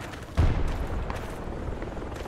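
A military helicopter passes overhead in the tactical shooter Project Reality, its dull rotor rumble swelling after a sudden low thump and holding steady and fairly loud, with no talk.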